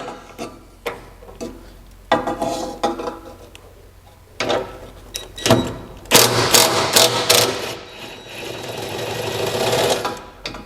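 A power tool removes 14 mm bolts from an Asfir fuel tank skid plate, giving short rattling mechanical bursts that cluster into a rapid, louder run near the end, close by and without speech.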